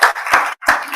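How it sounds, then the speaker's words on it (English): Applause from an audience at a health data conference panel, heard as short bursts of clapping with a brief gap of silence in the middle. "So round of applause to Anna on the seat."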